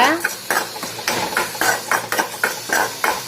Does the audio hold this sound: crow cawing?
no